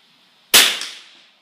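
A single sharp rifle report from a Vudoo V22 Ridgeback fired at a Lifesaver candy target 50 yards away outdoors, a crisp crack with a short decaying tail and a faint second tap of the impact.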